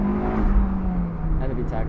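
A Honda S2000 AP2 engine hangs on its revs after the throttle lifts, a close, steady drone that slowly falls in pitch, heard from inside the car.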